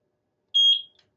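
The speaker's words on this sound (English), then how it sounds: "we're going to press that button until we hit a beep" A single short, high electronic beep from the sync button of a Eufy SoloCam S40 security camera, clean and close, against silence.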